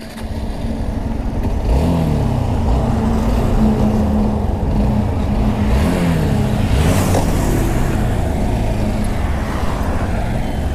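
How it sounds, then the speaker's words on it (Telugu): A Hero Xtreme 160R motorcycle engine runs loud and close, its note rising and falling through repeated revs over a steady rumbling idle. "starting engine"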